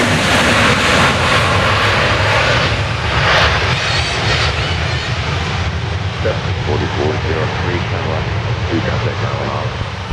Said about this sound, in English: 737-800. Nice spot here, Delta, runway 13 left,